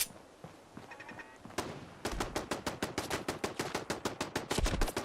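An automated turret in the Fallout 4 video game fires a long, rapid string of sharp, loud shots after a quieter lead-in with faint ambient sounds.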